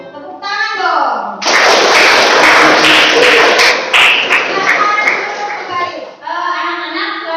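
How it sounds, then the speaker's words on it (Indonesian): Classroom children in an Indonesian lesson clap their hands together, a loud burst of many overlapping claps lasting several seconds, with a teacher's voice before and after. "Tepuk tangan dong."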